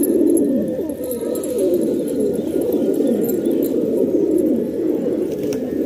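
Fancy pigeons coo steadily in a loft, a dense, continuous low murmur of overlapping calls from several birds close by, with no voices over it.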